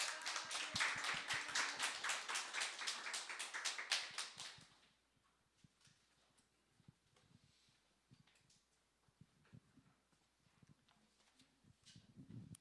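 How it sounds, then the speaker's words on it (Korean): A burst of applause from a church congregation at a Hanukkah service for about four seconds, then it dies away into a quiet room with scattered small knocks. "우리 박수로 한번 환영하겠습니다"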